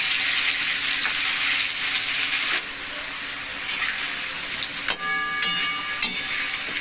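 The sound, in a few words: potatoes frying in oil until reddish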